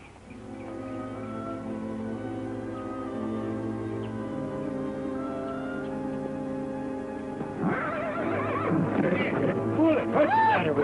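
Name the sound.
horse neighing and hooves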